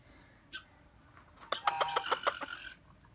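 Backyard jungle fowl chickens in a pen, a quick series of loud rhythmic clucks after a few softer calls, close and unaccompanied by talk.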